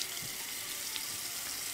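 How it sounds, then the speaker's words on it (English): A double-edged safety razor is rinsed under a running tap, a steady bright hiss of flowing water close by and alone, with no talking. "All right, let's give this a rinse."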